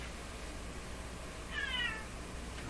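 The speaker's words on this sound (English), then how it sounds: "Oh, even my cat's upset at this." A pet cat named Peanut gives a single clear, mid-length meow indoors beside a tube radio workbench, standing out over a steady background hum.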